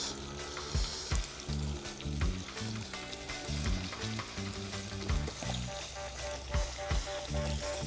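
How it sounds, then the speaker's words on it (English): Jamaican-style oxtails dropped back into a hot pot sizzle loudly and continuously, with scraping stirs and occasional thuds as pieces settle and shift; no voices. "Time for me to put back the oxtails in the pot."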